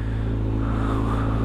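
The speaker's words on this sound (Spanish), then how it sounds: "deja calentar la moto" A motorcycle engine warms up with a steady low idling rumble, close and even, with no talk.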